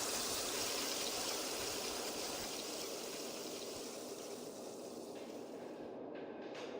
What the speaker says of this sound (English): Water, flow.